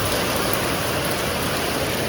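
Heavy rain pours down in a sudden downpour, a steady, loud, dense hiss that fills the whole stretch with no one talking.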